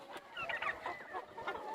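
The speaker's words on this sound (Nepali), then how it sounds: "तपाईहरुले देख्न सक्नुहुनेछ कुखुराको बगुन्द्रा।" A flock of local chickens clucks continuously on a farm where turkeys are also raised, with overlapping bird calls at close to moderate distance and no talk.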